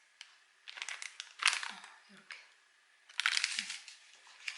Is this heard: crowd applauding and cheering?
no